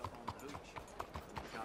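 Horse hooves clip-clop at a steady trotting rhythm in the Red Dead Redemption 2 video game, with about eight evenly spaced, moderately close hoofbeats in under two seconds.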